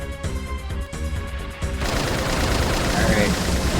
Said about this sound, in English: Are the machine guns and main cannon ready?